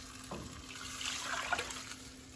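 Water poured into a pan of chicken adobo on the stove, a soft splashing hiss that swells and fades over a quiet steady background hum.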